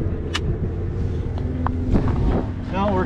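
A snowmobile engine runs steadily after a carburetor repair at an outdoor snowmobile event, a close rumbling drone under wind noise while people talk nearby.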